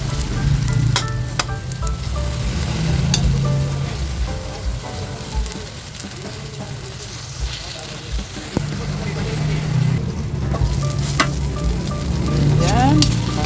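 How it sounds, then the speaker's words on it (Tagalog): Eggplant fries in hot oil in a covered pan, a loud steady sizzle throughout with occasional clinks of a utensil and lid, and a voice talking over it in places. "Ganyan guys ang mabilis pagprito ng mga talong."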